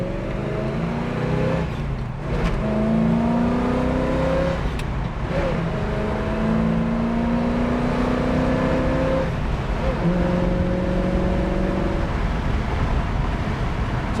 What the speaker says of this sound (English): We're gonna rip it through the gears one more time on the way back to the showroom